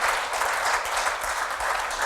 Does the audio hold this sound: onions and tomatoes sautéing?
no